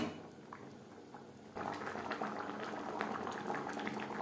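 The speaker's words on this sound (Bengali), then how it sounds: "গ্রেভির সাথে মাছ ও মাছের মাথা 3-4 মিনিট রান্না করে নেব" Rohu fish and fish head simmer in gravy in a pan for a traditional Bengali curry with maan kochu, a quiet steady bubbling that swells louder and denser partway through, with faint scattered pops.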